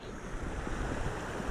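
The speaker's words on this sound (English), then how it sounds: "And it's windy as hell down here also" Wind blows by a creek on a Colorado trout fishing outing, a steady broad rushing roar buffeting the microphone, with no voices.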